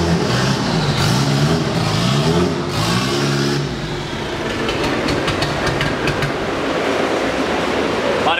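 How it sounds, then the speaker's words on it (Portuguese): Chevrolet Kadett 2.0 turbo car engine at a dyno day, revving loudly and accelerating with rising, wavering tones, steady and close throughout with broadband roar and some noise over it. "Parece um carro de arrancada"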